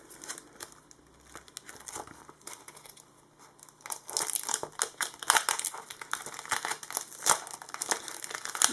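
Tissue paper crinkles and rustles as a package is unwrapped, starting soft and sparse and growing into louder, busier crumpling close by.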